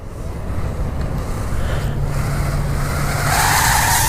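Furibee X140 3-inch mini FPV racing drone motors throttling up, a loud sustained whine with steady low buzz that swells and rises in pitch toward the end, close and continuous with no talk.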